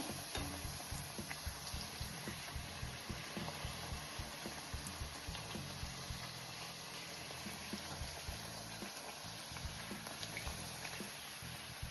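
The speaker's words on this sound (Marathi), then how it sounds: "एक 2 मिनिटं छान कलर येईपर्यंत दोन्ही साईडला परतवत तळायचं." Aloo methi puris deep-frying in hot oil give a faint, steady bubbling sizzle, soft crackles and gurgles running continuously and evenly with no talking.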